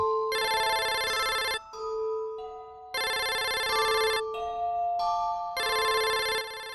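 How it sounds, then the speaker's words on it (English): A telephone rings in loud electronic bursts, three long trills separated by short pauses with a lower tone between, close and clear with no talking. "he suddenly heard a phone ringing"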